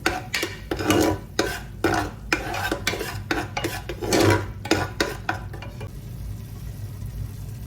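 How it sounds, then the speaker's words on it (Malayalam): Soyabean biriyani masala being sautéed in a pan, quick rhythmic scraping strokes of a spoon over a soft fry hiss, close by, the stirring stopping near the end and leaving a faint sizzle. "ഇതിൻ്റെ പച്ചമണം മാറുന്ന വരെ നമുക്ക് വഴറ്റിക്കൊണ്ടിരിക്കണം."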